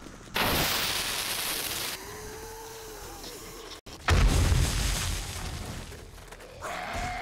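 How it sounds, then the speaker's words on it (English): Explosions go off in the zombie survival game 7 Days to Die as two loud, booming blasts a few seconds apart, each followed by a rumbling tail and scattered debris and mechanical noises. "Really, we only killed 2 zombies with that explosion?"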